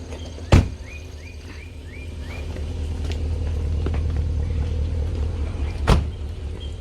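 A parked car's engine idles as a steady low rumble throughout, with two sharp knocks near the start and end, likely doors closing.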